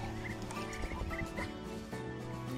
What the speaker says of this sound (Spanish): El sonido de los patos lo tienen como un graznido, que a continuación lo verán en este video.